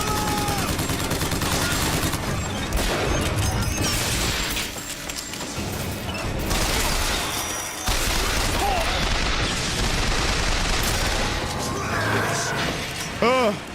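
Heavy gunfire and crashing combat noise in BioShock Infinite while fighting a Patriot, loud and continuous with bursts and impacts, under someone talking and game voices shouting.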